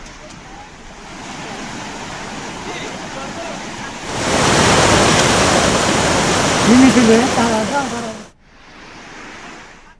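Loud, steady roar of a rain-swollen stream overflowing, swelling midway into a heavier surge before easing off; a voice briefly rises over the torrent.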